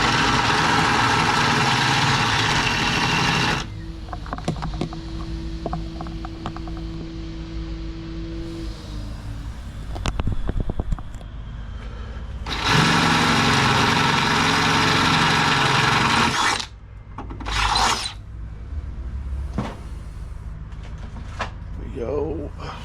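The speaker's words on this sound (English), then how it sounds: "so we'll drill out our second hole" A power drill bores a hole in a 1979–1980s Holden Commodore, running in two long loud whining bursts separated by quieter handling noise and speech, then a few short blips at the end.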